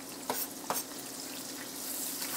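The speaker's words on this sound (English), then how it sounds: "Okay, pan is hot? It's hot. We're going to go ahead and add our onions." Onions frying in a hot pan, a steady faint sizzle with a couple of soft stirring scrapes near the start.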